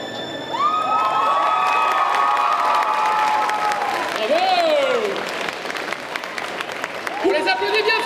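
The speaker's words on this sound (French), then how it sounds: "On les applaudit bien fort." An audience at a cosplay show in Bordeaux claps and cheers loudly and steadily, with high excited shouts and whoops rising over the applause.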